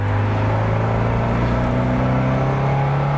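A 1991 Alfa Romeo Spider engine pulls steadily uphill in second gear at about 3,000 rpm, a continuous droning hum with a rising tone, heard from inside the car without a break.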